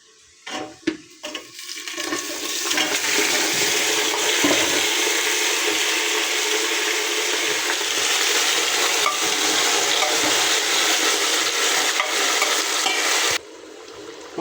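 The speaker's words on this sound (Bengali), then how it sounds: "তারপরে মাংসগুলো ঢেলে দেবো।" Beef tipped into a hot pan of panch phoron spices for a Bihari-style curry, a few clatters and then a loud, dense sizzle that roars steadily for several seconds before cutting off.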